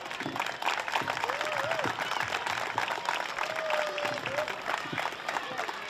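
Steady applause from a crowd at a Little League parade, dense clapping throughout with scattered cheers and voices mixed in.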